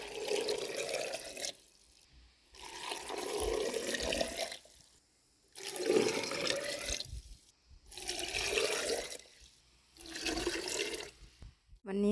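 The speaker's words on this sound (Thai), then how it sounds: "สร็จแล้วเราก็ใส่น้ำเกลือไปเลยจ้า" Brine poured into a jar of cucumbers for homemade Thai pickles, heard as five separate bursts of splashing, gurgling liquid, each a second or two long with short quiet gaps between, close and fairly loud with no talking.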